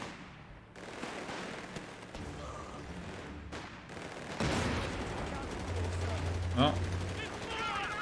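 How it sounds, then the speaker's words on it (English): An enemy machine gun nest fires in Company of Heroes 3, quick rattling bursts amid battle noise and explosions, fairly faint and mixed under a man's brief exclamation. "Pinned means that enemy has a machine gun nest"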